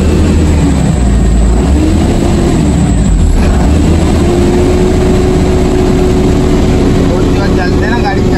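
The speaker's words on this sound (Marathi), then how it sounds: "आता आपली गाडी चालू" After a flood, a car whose battery had run down starts and settles into a loud, steady engine drone with a faint rising tone, while people talk over it.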